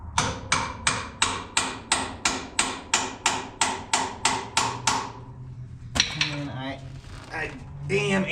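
Part being driven home on a White 4-270 tractor, about fifteen evenly spaced sharp metallic hammer taps over five seconds, followed by clanking and handling of metal parts.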